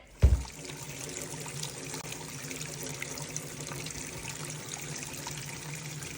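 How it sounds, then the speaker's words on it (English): Water runs steadily from a tap with a soft splashing trickle as sea moss is rinsed, preceded by a brief thump at the start. "You just basically rinse this until the water is clear"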